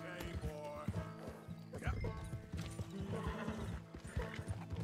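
Horse hooves clip-clopping in Red Dead Redemption 2 while riding, a steady rhythmic trot layered with game music and sound effects, with a brief whinny and people talking over it.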